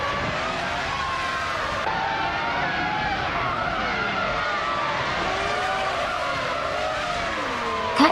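Several 1998 Ferrari F300 Formula One cars in the F1 1998 racing game roar off the line at Zandvoort, engines whining and shifting continuously at steady loudness, with tire skids and overlapping pitches from the pack.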